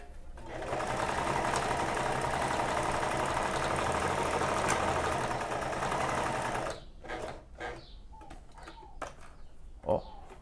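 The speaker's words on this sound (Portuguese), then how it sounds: "Vou costurar aqui para vocês verem, ó." Sewing machine stitching fabric during a repair for loose, bunching stitches: a steady fast mechanical whirr for about six seconds, then stopping, followed by scattered clicks and handling noises.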